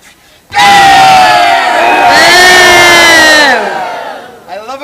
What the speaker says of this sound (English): I love a crowd that boos louder than it cheers.